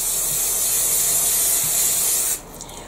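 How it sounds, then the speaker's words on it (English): A can of 505 spray adhesive hisses in one steady, close burst for over two seconds as glue mists onto fabric, then cuts off abruptly into near silence. "You will need some 505 spray or similar adhesive, and I'm just going to give this a quick spray."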